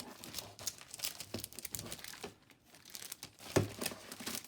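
Paper being handled and crinkled at close range, quiet irregular rustles and crackles with a few sharper crumples.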